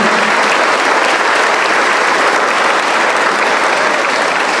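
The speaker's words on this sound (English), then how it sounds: "May I request all our youth to give a thunderous applause for this generous and simple gesture of Bubagra" Loud, sustained applause from a large crowd at a youth convention fills the whole stretch, a dense steady roar of clapping hands.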